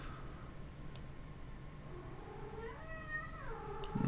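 A hungry cat lets out one drawn-out rising and falling meow, faint and slightly distant, over a steady background hiss.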